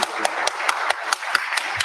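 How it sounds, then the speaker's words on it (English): A canned round of applause plays from a soundboard, sounding thin and regular, with sharp clap accents landing roughly every quarter second over a low hiss. "Round of applause for AEW news."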